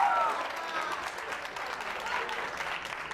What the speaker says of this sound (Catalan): També un aplaudiment.